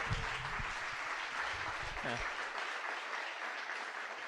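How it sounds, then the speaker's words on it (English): Audience applause at a live event in Lake Placid, steady clapping from a crowd that holds even and continuous, with a voice briefly audible under it early on. "how about a big round of applause"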